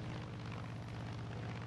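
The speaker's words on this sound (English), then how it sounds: "Obviously, I don't want the plane to go down, though." Propeller airplane engine in the video game Far Cry 5, a steady, loud, low droning hum with a fast pulsing beat, heard alone.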